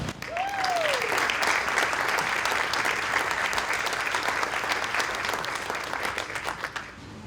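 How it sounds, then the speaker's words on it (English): An audience at a county schools Teacher of the Year ceremony claps steadily for the teacher candidates, a full, even round of applause with a brief whistle near the start, fading slightly at the end. "Let's give them another round of well-deserved applause."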